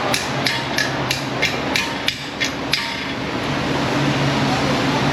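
A Mac Tools hammer strikes needle nose pliers gripping a wire to seat it into a vehicle strut: about eight sharp metallic taps at an even pace, close and distinct, before they stop over a steady background hum.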